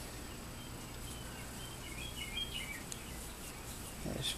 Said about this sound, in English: There's a bird trying to outdo me on my video.